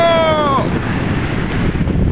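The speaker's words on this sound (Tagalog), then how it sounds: "napakaganda, napaka sarap na dumadampi ang simoy ng hangin dito sa pangpang ng Laguna de Bay" Wind buffets the microphone in a steady rushing roar on the shore of Laguna de Bay, with a brief falling tonal sound at the start before the gusts continue alone.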